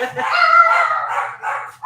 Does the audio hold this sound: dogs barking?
yes